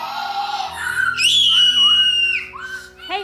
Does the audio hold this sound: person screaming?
yes